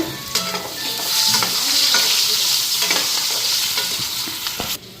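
Loud, continuous sizzling of chicken and potatoes frying in oil, with scattered crackles and scraping stirs, ending abruptly.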